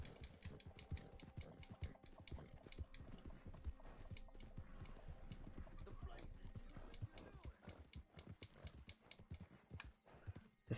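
Horse hooves gallop in a steady clip-clop rhythm through a Red Dead Redemption 2 bounty-hunting chase, loud and continuous with faint game ambience beneath.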